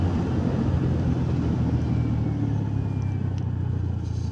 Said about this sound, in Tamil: பரவாயில்ல வண்டி வருது, அதுவும் கொஞ்சம் நல்லது தான் நம்மளுக்கும்.